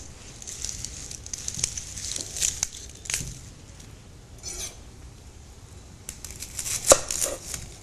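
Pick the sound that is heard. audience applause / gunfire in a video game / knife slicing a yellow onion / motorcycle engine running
knife slicing a yellow onion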